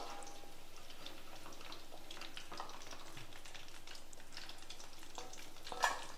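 Raw plantain slices fry in hot oil for a wedding-style Tamil vazhakkai varuval, giving a faint, steady, low-level sizzle with soft crackles and one brief louder clink near the end.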